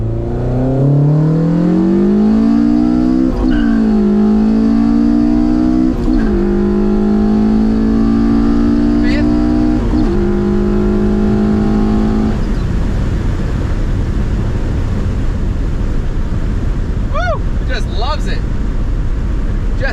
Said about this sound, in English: But the engine is so happy right now.